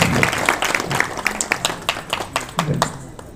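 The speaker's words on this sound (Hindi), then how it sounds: "ताली बजा के स्वागत करें" Scattered hand claps from a small group at a Ram Katha religious gathering in a village, irregular and uneven, with some voices murmuring underneath.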